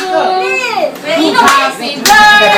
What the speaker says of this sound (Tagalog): Palakpak! Palakpak!